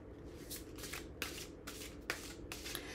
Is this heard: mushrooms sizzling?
no